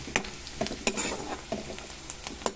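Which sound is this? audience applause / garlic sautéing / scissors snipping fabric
garlic sautéing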